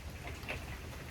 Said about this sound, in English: you might be able to hear the rain and the wind right now.